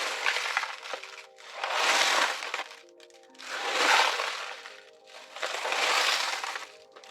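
A homemade shaker of grain in a plastic bottle is rattled in slow, regular swells, four rushing, gritty bursts of seeds sliding inside, close and fairly loud.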